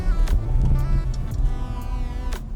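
A BMW 3 Series Touring G20 wagon accelerates in first gear, its engine a close, steady rumble with rising tone and a few clicks, no talk.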